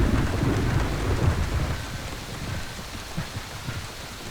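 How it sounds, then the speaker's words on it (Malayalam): Heavy rain pours down steadily in a dense, loud hiss, with a low rumble of thunder underneath, close and unbroken without voices. "എന്തൊരു മഴ."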